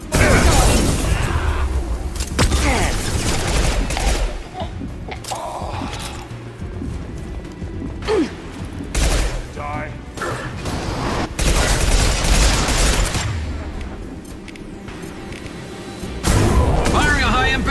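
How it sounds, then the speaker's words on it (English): Heavy high-impact gunfire and booming blasts from a Mass Effect 2 battle, loud and dense throughout with crashes and mechanical clatter, while game characters shout and talk over the combat. "Firing a high-impact shot!"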